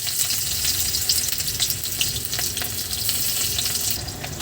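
Chopped onion frying in hot oil in a wok, a dense continuous sizzle with crackling pops and occasional light stirring scrapes, close and loud, with no voices.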